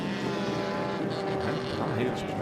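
Open-class rallycross cars race at a round of a 2025 rallycross championship, a dense, continuous engine roar that stays loud throughout the short stretch.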